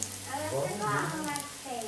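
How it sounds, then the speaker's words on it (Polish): Food sizzles and spatters in a frying pan as a grandmother cooks in a home kitchen during the Christmas season, a short steady crackle with a voice murmuring over it. "a my tutaj smażymy z babcią, a właściwie babcia smaży"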